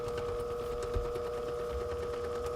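Pump running during a liquid nitrogen science demonstration, a steady close mechanical hum with a constant tonal whine and faint rattle, alone throughout.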